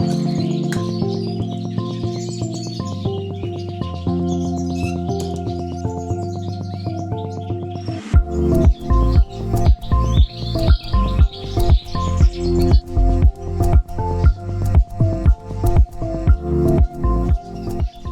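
Music plays with pet birds in an indoor bird room chirping and tweeting in short bursts over it; a rhythmic plucked beat joins halfway, with chirps continuing throughout.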